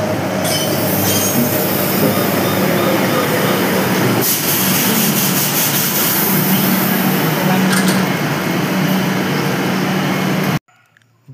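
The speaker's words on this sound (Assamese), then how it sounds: "চাওক আপোনালোকে ট্ৰেইনখন আহিব এতিয়া" A Kolkata underground metro train pulls into the station, a loud sustained rumble of wheels with squealing and rattling carriages, ending abruptly in near silence.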